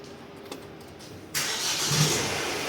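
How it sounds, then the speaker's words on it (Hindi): A Mahindra XUV300 diesel SUV engine cranks to life after a short quiet stretch, then settles into a steady, loud running rumble. "एक बार स्टार्ट करके भी चेक करा देता हूँ।"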